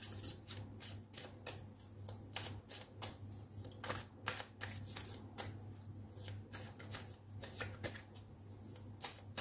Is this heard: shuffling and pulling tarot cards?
yes